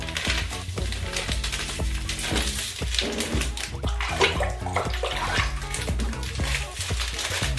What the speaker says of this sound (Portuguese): Agora a gente vai misturar na água e tem cheiro de laranja